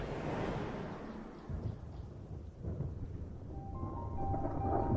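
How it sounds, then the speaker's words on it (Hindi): Thunder rolls over a grassland as a monsoon storm arrives, with deep rumbling surges that build and fade and rain hissing underneath, fairly distant and low. "आसमान बादलों से घिरने लगा है और बिजली भी गरजने लगी है"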